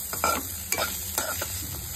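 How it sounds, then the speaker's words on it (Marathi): Ginger and garlic frying in masala for a Mori (baby shark) fish masala, stirred several times in a pan, with a close, steady sizzle and rhythmic scraping strokes and no talk. "तर हे व्यवस्थित एकदा परत हलवून घेऊया"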